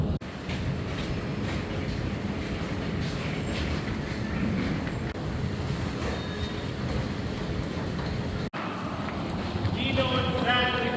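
An Amtrak Empire Builder train runs steadily on the rails in the dead of winter, a constant rumbling roar heard from inside, with a brief dropout and faint high squealing near the end.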